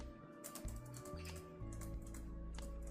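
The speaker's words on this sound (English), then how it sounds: "let me just type out a few characters" Keys tapped in quick irregular bursts on a budget laptop keyboard with a faulty key, close and faint, with a few sharper clicks and a held-key stretch in a quiet room.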